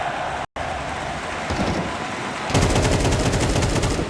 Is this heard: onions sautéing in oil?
no